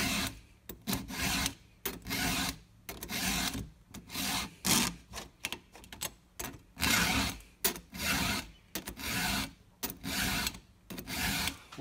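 A file rasps across chainsaw teeth in steady back-and-forth strokes, close and clear, each stroke a gritty scraping burst separated by short pauses, with no talking.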